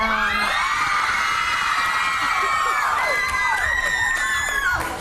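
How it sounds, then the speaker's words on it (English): A studio audience at a live morning talk show cheers and screams loudly and continuously, with many high-pitched young voices whooping and shrieking together in a dense, sustained roar. "We thought they were cheering for us"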